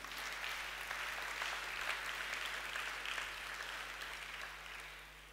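Church congregation clapping steadily through a Sunday service, a dense, sustained applause that fills the room from start to finish with no talk over it.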